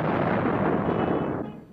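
A bomb blast in a wartime newsreel among North American tanks near Tebourba, one loud rumbling explosion that booms and fades out over under two seconds.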